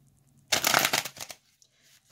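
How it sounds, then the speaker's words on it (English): A single quick riffle of tarot cards, a brief crisp burst of flapping paper lasting under a second, close by in a quiet room. "I'm going to shuffle one more time"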